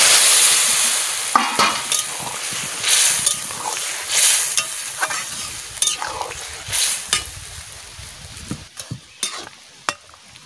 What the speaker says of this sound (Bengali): তরকারিটা আমি ঢেলে দিচ্ছি।